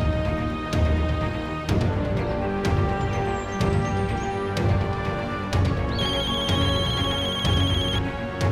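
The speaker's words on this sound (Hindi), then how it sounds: "युवराज दी का फोन है। प्लीज बंद कर दो इसे, प्लीज।" A mobile phone ringtone plays loudly and repeatedly in a drama scene. The melodic tone loops in regular bursts with no talk over it.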